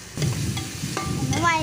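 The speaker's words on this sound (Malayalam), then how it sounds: "നാം കട്ട് ചെയ്ത ക്യാരറ്റ് ഇതിലേക്ക് ഇട്ട് കൊടുക്കാം." Chopped carrots go into a hot frying pan for macaroni, a thud and scrape followed by a close sizzle and clinking, with a faint ringing tone near the end.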